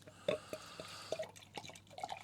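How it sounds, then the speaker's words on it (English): Beer poured from a Philips PerfectDraft Pro home draught tap in a vigorous pour, giving a faint liquid rush scattered with soft drips and splashes. "Vigorous pour, you know you're going to get a good head."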